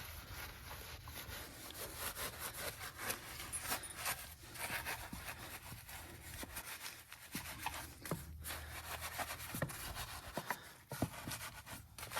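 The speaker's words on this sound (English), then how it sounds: "I'm gonna start with the brush here" A brush scrubs a car wheel rim in steady, close rubbing strokes, a continuous scratchy swish with no talking.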